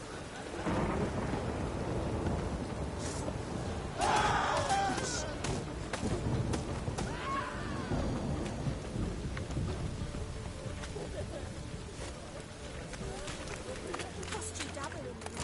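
Steady heavy rain pours down in a video game while thunder rumbles and cracks, with a voice speaking over the storm.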